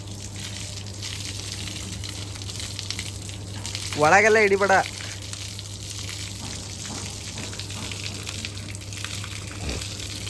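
Water sprays in a steady hiss from a hose while a vehicle is washed, continuous throughout, with a brief spoken remark partway through.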